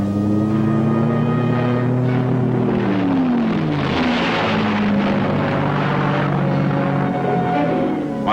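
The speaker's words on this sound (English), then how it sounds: "The fixed-wing spotter planes, nicknamed Bird Dogs, had the job of guiding aircraft into strikes at enemy positions." Fixed-wing Bird Dog spotter planes fly during the Vietnam War, a steady loud propeller engine drone whose pitch slides and shifts as the aircraft passes, with wind rumble throughout and no voices.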